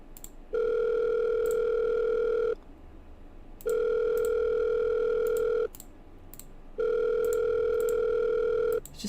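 A telephone ringback tone in a horror video game sounds in three long, steady bursts separated by short pauses, clear and close with no talking.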